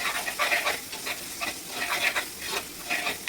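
A spice paste of chili, coriander, fenugreek, asafoetida and turmeric with curry leaves is sautéed and stirred in a pan. It gives a steady, close sizzle broken by rhythmic scraping strokes, with no talk.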